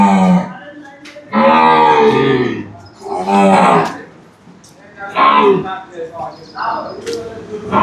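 Murrah, Jaffrabadi and Banni buffaloes at a dairy farm give several long, loud, close moos with pauses between them, mixed with people talking nearby.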